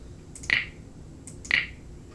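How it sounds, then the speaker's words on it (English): Click sound effect triggered from a checkbox in a drum sequencer program, two short crisp snaps about a second apart, close and clear over a quiet background. "Each time I click the costume, the checkbox makes a clicking sound."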